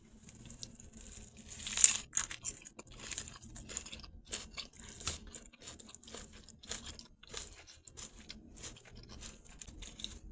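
Chewing a collard green burger from a garden-to-table meal, with crisp crunching bites and soft rhythmic mastication close to the mic, one sharper crunch early on, continuing steadily with no talking.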